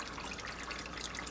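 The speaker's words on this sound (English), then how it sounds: "so just a little bit of water" Water poured in a small splash over black-eyed peas in a crock pot, a brief, faint trickle heard close up with nothing else around it.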